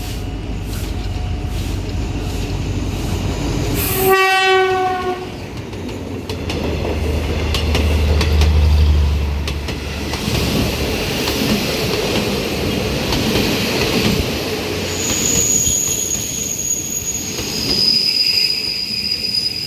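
Thai ordinary commuter train no. 372 arriving at a station, a loud continuous rumble of railcars and wheels with a brief horn-like tonal blast early on and later high squealing wheels as it slows, heard up close without talk.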